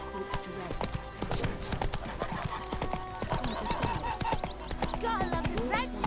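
Hoofbeats of the horse Roach galloping in The Witcher 3, a steady clip-clop rhythm over game music and ambient sound, with a few neighs and a voice speaking.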